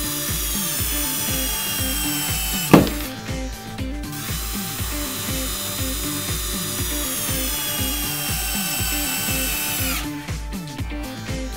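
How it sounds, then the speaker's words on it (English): Hardened steel Dynaplus screw with AR coating driven in by a power tool during a torsional strength test, a steady rapid ratcheting whir with a sharp crack partway through, running loud and continuous with no talking. "Thus, the screw does not break off while being screwed in."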